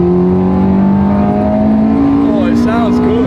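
A Ferrari F430 with a freshly rebuilt engine drones steadily at close range, pitch creeping upward as it accelerates, with brief chirpy revs near the end.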